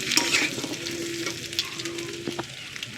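Potatoes and fried meat sizzling together in a pan for biryani, with stirring scrapes and clinks over a steady crackle, close up.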